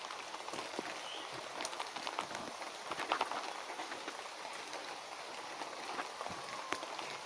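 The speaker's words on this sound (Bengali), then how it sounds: "ঝিরি ঝিরি বৃষ্টি করবে নিচ্ছে, এই যে ঝিরি ঝিরি বৃষ্টি" Light drizzle falling outdoors beside a home garden with gourd vines, a faint soft hiss of rain with scattered drops tapping irregularly, no voices.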